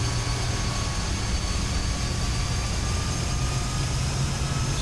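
Turboprop engines of a King Air 200 in Flight Simulator X, a steady loud droning roar with a constant whine, continuous and alone throughout.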